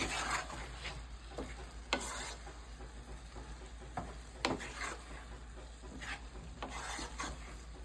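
Vegetables for vegetarian chili sizzle quietly in a pan while a utensil stirs them, scraping and knocking against the pan at irregular moments over a steady low fry.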